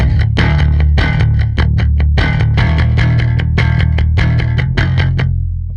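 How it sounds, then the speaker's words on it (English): Distortion from an Elements Kepler FX rack preset on a synth pattern, with loud, dense, gritty chopped chords pulsing over a steady sustained bass for several seconds, fading slightly at the end. "you can use the rack FX, the FX rack, to add maybe a distortion"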